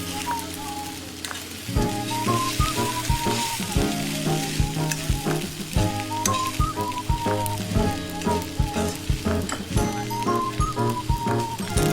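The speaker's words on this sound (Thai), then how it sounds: "เราอาจจะใช้วิธีการเขย่ากระทะนะคะ เพื่อช่วยในการผัดนะคะ" Shrimp fried rice sizzles loudly in a pan, with repeated rhythmic scraping and clattering as the pan is shaken and stirred.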